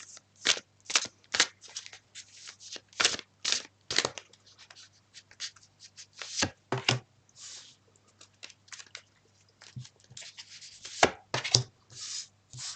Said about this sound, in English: whilst I'm shuffling and pulling the cards